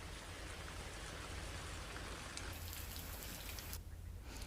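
Heavy monsoon rain pours down in Kutch as a steady, dense, hissing wash of drops with no pauses, heard at a distance and fairly quiet, with no voices.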